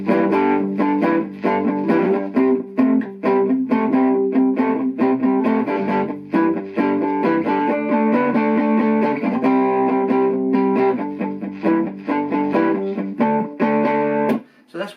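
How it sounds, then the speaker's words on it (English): Electric guitar played through a distortion pedal, a Chinese-made Demon Tube Screamer alongside a Boss ME-70, ringing out loud, gritty sustained chords and riffs continuously for about fourteen seconds before cutting off abruptly. "So that's what it sounds like with a bit of distortion."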